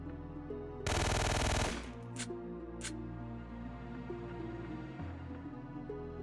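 A loud, close burst of machine-gun fire rattles for about a second in Syphon Filter 3, followed by a few short single shots over a low background music bed.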